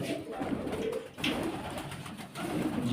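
Pigeons coo softly in a small enclosed space, low rolling calls repeating close by amid faint rustling.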